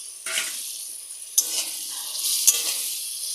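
Pointed gourd pieces fry in a pan for a mustard curry, giving a close hissing sizzle broken by a few sharp scraping stirs of a spoon against the metal.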